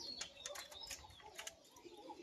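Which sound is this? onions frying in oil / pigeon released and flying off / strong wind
pigeon released and flying off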